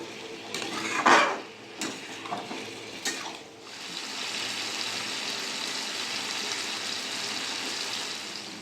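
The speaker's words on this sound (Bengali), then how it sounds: "ময়দার সাথে চিকেন আলু কষিয়ে নেবো" Chicken and potato pieces are sautéed with flour in a pan, with a few sharp clinks of a utensil against the pot early on, then a steady soft sizzle and frying hiss.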